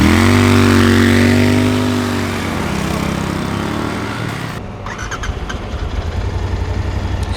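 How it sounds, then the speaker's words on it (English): Royal Enfield Interceptor 650 motorcycle engine cranking and catching, then settling into a steady, muted idle, loud and close with no talking. "Starting up for the first time on the Interceptor 650, right off the bat you feel that the engine is very muted"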